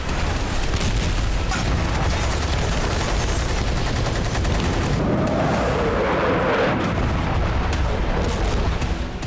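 Artillery bombardment in the Russia–Ukraine war, a dense, loud wall of rumbling blasts and crackling fire that continues without a break, with the heaviest booms near the middle.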